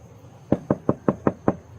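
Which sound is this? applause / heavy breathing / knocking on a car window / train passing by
knocking on a car window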